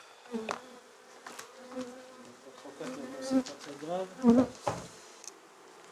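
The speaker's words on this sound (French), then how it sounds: "c'est bien les abeilles d'hiver, ça se voit, longues, grasses" Winter honeybees, long and plump, buzz around a beehive in a pre-winter apiary while someone speaks French over them; the droning hum swells and fades in close, uneven bursts.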